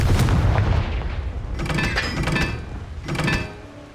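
In the Hogwarts Legacy video game, the Confringo fire spell is cast, producing loud, booming blasts. A heavy rumbling impact opens, followed by two crackling, fiery bursts in quick succession.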